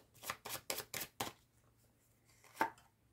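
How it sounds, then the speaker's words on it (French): Tarot cards are laid down one after another on a table, five quick soft slaps in a row followed by a pause and one more placement, quiet and close. "le temps que je pose les cartes"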